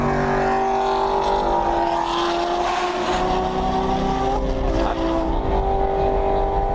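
Race cars roar at speed around the VIR track as a Maserati closes in and passes, a loud sustained engine drone with shifting pitch heard from inside a car.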